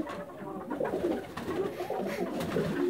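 Several pigeons coo in low, rolling, overlapping calls in a pigeon loft, moderately close, with a steady background hum and no talking.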